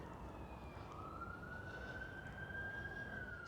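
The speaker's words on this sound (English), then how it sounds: "Oh, there you go, sirens." An emergency vehicle siren sounds in the distance in Blackpool, a faint, steady wailing tone that rises gradually over a low background hum of traffic.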